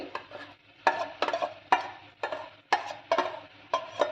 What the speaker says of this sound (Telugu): ఒక టేబుల్ స్పూన్ ఎండు కొబ్బరి పొడి వేసి ఇలా బాగా మిక్స్ చేసుకోవాలి